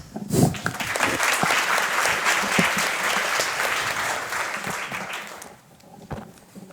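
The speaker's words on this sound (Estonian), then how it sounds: "Aitäh kõigile ettekandjatele, plaksutame." Audience applause for the presenters at an open data forum, steady clapping that fills the room for about five seconds before tapering off near the end.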